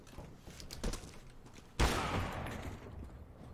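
Rapid gunfire from a first-person tactical shooter, a faint crackle early on followed by a louder burst that trails into sustained spraying noise, quiet overall.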